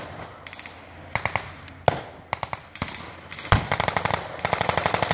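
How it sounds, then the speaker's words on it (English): Gunfire at a WW2 reenactment battle: irregular bursts of sharp cracks and rapid machine-gun-like volleys, some close and loud, others farther off, with the firing thickening toward the end. "relentless continuing fire from the Allies is keeping up the pressure"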